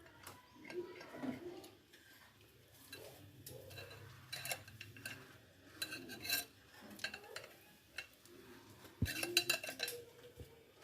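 A knife slicing a cooked Spanish omelette in a pan or on a plate, with faint scattered taps, metallic clinks and scrapes at an irregular pace and a sharper cluster of clinks near the end.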